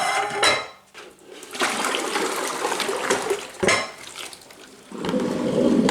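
Dishes being washed by hand in a home kitchen, with running water splashing and dishes and cutlery clinking in a steady wash, broken by a few short pauses.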